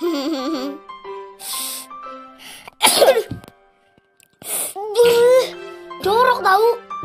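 A child sneezes a few times in sharp bursts, mixed with children's voices talking and exclaiming between them.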